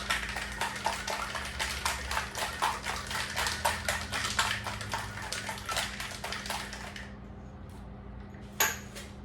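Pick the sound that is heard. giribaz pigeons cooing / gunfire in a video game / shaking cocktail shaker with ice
shaking cocktail shaker with ice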